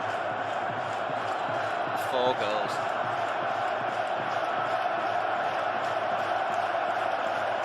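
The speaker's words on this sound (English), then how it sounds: "Finally, the Bernabeu crowd has started to chant." At the Bernabeu during the 2005 Real Madrid vs Barcelona El Clasico, a huge stadium crowd sends up a continuous roar with chanting, and a commentator talks over it.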